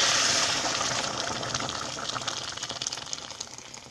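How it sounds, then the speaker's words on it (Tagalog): Water rushing and bubbling steadily in a pot of monggo being cooked, a broad hissing wash that stays loud throughout and fades slightly toward the end, with no voices. "Kulo na siya."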